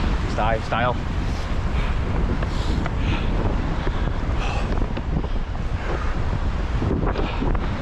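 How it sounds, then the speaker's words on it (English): Strong wind buffets the microphone in continuous low rumbling gusts at Dungeon Gill National Trust car park, with faint bits of a voice briefly audible beneath the roar. "It's pretty windy"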